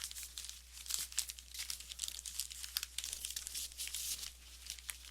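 Strips of paper cut from recycled flyers are woven by hand into a placemat, producing close, steady crinkling and rustling with small crisp tears, continuous and alone for several seconds.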